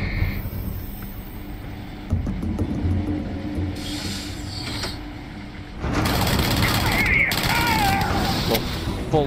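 A full-auto pistol in the Starfield video game fires rapid bursts of mechanical, rattling gunfire, with clicking weapon mechanisms and a louder stretch of shots near the end, under background game sound and voices.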